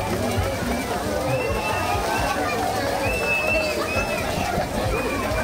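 Thermal spring water at Caldas do Jorro, Bahia, sloshes and splashes in a steady, busy wash, mixed with the murmur of crowd voices and people talking nearby.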